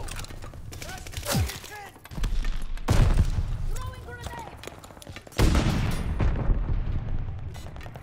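Grenade blast and surrounding gunfire in Call of Duty Vanguard multiplayer, loud booming bursts and rapid shots in bursts across the scene, with a player's voice heard in between.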